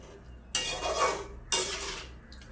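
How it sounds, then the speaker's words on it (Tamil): Pieces of breadfruit are mixed with onions, salt and spice powder in a pan, making two quick, close scraping stirs about a second apart. "இப்போ இந்த ஈரப்பிளாக்காயை வந்து ஒரு அப்படி மிக்ஸ் பண்ணி விடுவோம்"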